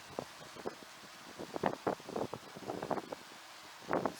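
Strong wind buffeting a microphone during a DJI Mini SE drone flight outdoors, irregular gusty rumbles and bursts of varying strength.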